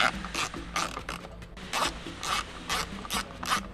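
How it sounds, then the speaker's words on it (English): Ratchet clicks from a 10mm socket backing out bolts on a C8 Corvette, coming in quick rasping bursts about every half second, close and fairly quiet. "We need to take our 10mm socket and pop out these 4 bolts."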